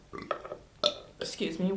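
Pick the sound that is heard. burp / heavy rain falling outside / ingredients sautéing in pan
burp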